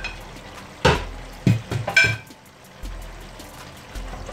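Fried pointed gourd and chicken filling being stirred in spiced oil in a pan, with a few sharp scraping, clattering stirs over a steady low sizzle, close and fairly loud.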